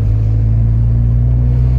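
A car's engine idles steadily while warming up, a loud, continuous low rumble with a smooth, even drone and no other sounds over it.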